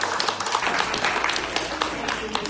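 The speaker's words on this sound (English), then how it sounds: "let's give her a round of applause." Audience at the Elevate Edgecombe summit breaking into a round of applause, dense continuous clapping filling a hall at steady loudness, with some voices mixed in.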